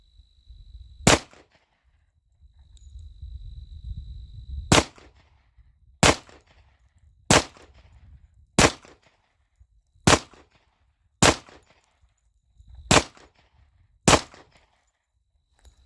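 A Tisas 10mm 1911 pistol fires at an outdoor range, about nine sharp, loud single shots spaced irregularly about a second or two apart, with a low rumble and a faint tone between the first shots.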